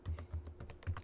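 Rapid typing of Java code on a computer keyboard, a dense run of close, even keystroke clicks with a few heavier thuds, steady and alone with no talking.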